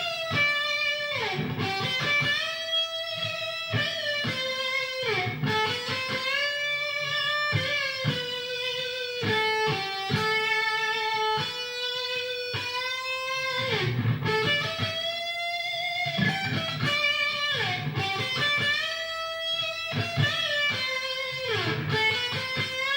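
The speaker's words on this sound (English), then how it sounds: "So for example, you play a kind of slower lead, it might sound like this." Ibanez S7320 seven-string electric guitar playing a slow, melodic lead with sustained, bending notes and a light overdriven tone, steady and close throughout with no talking.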